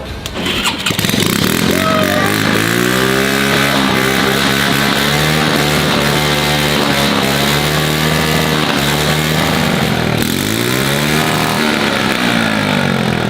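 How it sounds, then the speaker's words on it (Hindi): Homemade DIY army tank engine cranks and fires up, then runs loudly and continuously nearby with a rough, motorcycle-like revving that rises and dips throughout. "गाइस हमारा इंजन तो लग चुका है, अब हम इसको स्टार्ट कर रहे हैं।"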